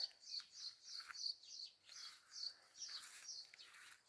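Faint birdsong with repeated high chirps and short warbling phrases, sounding somewhat distant and continuing throughout.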